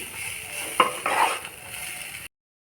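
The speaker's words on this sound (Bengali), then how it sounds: "দিয়ে আর একটু ভালো করে নেড়ে নিচ্ছি।" Stirring elephant apple pickle with ground yellow mustard in a pan: a few scraping, shuffling strokes with a soft sizzle underneath, close by, ending abruptly.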